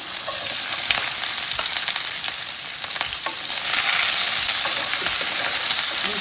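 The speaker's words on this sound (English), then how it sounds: "I just added the green chilies now and then I add the onions" Green chilies and onions frying in oil for oats upma with urad dal and curry leaves, a loud, dense, continuous sizzle with crackling spatters close by, no one talking.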